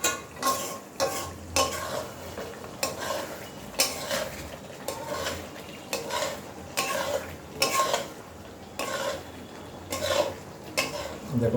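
Chicken with home-ground spices stirred in a pan, a spoon scraping and clattering against the metal in repeated strokes over a soft, steady sizzle, close and fairly quiet, with no voices.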